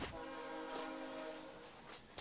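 A VIA Rail F40PH-3 locomotive approaches at St. Mary's, giving a sustained horn blast with a steady harmonic tone over rumbling rail noise, fairly faint and distant throughout.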